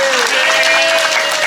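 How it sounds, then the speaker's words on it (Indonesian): Children clap together in a short, dense burst of applause at a lively religious talk, with a voice sounding over the clapping. "Tepuk tangan anak-anak."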